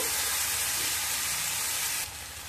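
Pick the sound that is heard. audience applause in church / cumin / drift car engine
cumin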